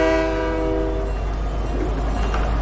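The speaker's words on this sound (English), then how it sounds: "The train's coming." Video game train approaching with a loud, sustained multi-tone horn blast at the start, then a steady rumbling roll of the oncoming train, close and loud with no talking.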